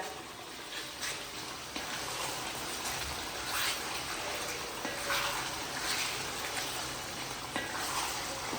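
Mutton pieces fry and sizzle in hot oil while a spoon stirs them, a steady crackling hiss with occasional scrapes and soft clinks, heard up close with no talking.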